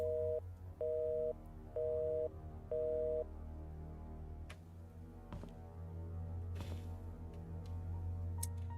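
A telephone tone in the video game The Painscreek Killings, set in an abandoned town, sounds as four evenly spaced beeps of a busy signal. A low hum, faint clicks and rustles follow.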